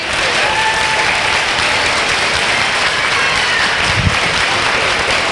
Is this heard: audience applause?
yes